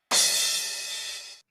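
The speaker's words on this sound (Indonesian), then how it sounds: "Kemudian ketuk crash." A single crash cymbal hit on a real drum kit, a bright, loud wash that starts sharply and fades over about a second before cutting off, alone with no voices.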